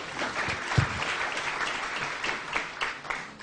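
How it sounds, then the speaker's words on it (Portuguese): An audience at a public talk applauds to welcome a speaker onto the stage, giving a dense, moderately loud round of clapping that carries on steadily. "Peço que também o recebam com uma salva de palmas"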